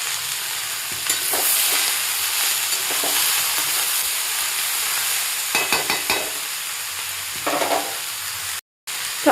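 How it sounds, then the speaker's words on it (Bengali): Grated ginger and chopped green chilli frying with vegetables in a pan, giving a steady, fairly loud sizzle with a few scraping stirs and a brief dropout near the end. "তো আদা আর লঙ্কাটা ভাজা হয়ে গেছে সবজিগুলোর সাথে।"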